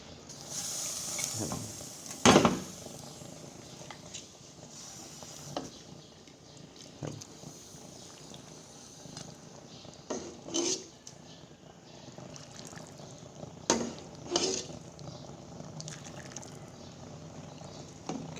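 Cooked northern Thai phak hiak curry ladled from a pot: quiet, scattered scrapes and soft knocks of a ladle against the pot, a few sharper clinks standing out over a low background.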